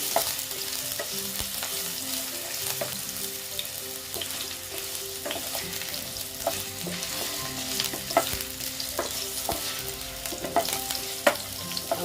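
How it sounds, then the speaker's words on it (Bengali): Potatoes frying in a pan, a close, continuous crackling sizzle with frequent scraping clicks of a spatula stirring them at an uneven rhythm. "হালকা একটু ভাজা করে নিচ্ছি"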